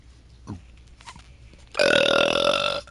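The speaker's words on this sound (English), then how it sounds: "I never knew a painful burp could be hurting that much" A single long, strained burp from a man in pain, bursting out loudly after a few faint grunts and holding for about a second.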